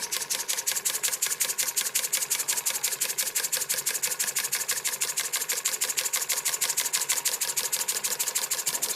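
Small model steam engine with a see-through cylinder running steadily, a fast, even mechanical chuffing and ticking at a constant rhythm, close and moderately quiet, no talking.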